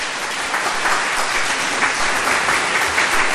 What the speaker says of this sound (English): welcome, Ray, and we can applaud.